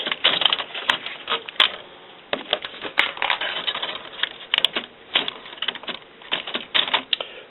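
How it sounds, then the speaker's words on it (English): Plastic clicks, snaps and rattles from opening the latch and pulling Epson ink cartridges out of a WorkForce inkjet printer, a busy irregular run of close taps and scrapes with short pauses. "So I'm going to open up the latch and take out the Epson cartridges."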